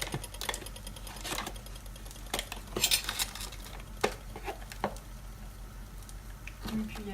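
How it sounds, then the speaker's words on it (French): Flour being stirred into a little water in a pot with a spoon, giving scattered clinks and scraping scrapes of metal against the pot, with soft wet stirring between them. "on délaye l'ensemble avec un petit peu d'eau"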